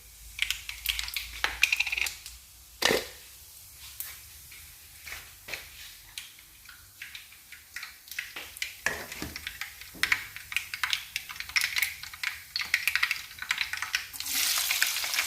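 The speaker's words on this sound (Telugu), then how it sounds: "ఇప్పుడు అందులో ఆవాలు జీలకర్ర వేసుకుందాం." Mustard seeds and cumin drop into hot oil and crackle, with sharp popping clicks and spatters scattered irregularly over a quiet background, growing denser toward the end.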